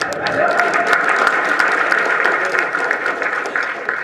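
A hall audience at a poetry memorial event bursts into sustained applause after a poem is recited, a thick, even roar of many hands clapping that holds steady and fairly loud throughout.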